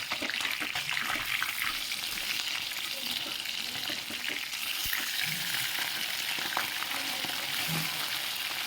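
Pieces of a large Japanese fish, rubbed with turmeric and salt, frying in hot oil; a continuous loud crackling sizzle with occasional small pops, no talking.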